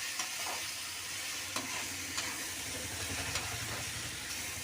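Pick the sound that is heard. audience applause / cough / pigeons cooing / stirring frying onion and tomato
stirring frying onion and tomato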